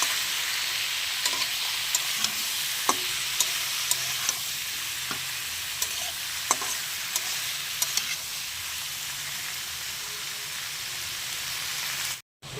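Chicken for butter chicken sizzles steadily as it is stirred and fried in a pan, with scattered light scraping ticks over a constant crackling hiss until a sudden cut at the end.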